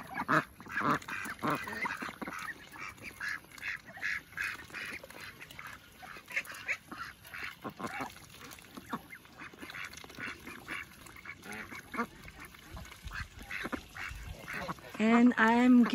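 Ducks quack and call repeatedly at a small backyard permaculture pond, with nearby fowl adding honks, in scattered bursts of varying loudness and a louder flurry at the end.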